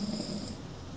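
A sleeping man snores, one brief rough nasal rumble with a low drone, close and fairly quiet.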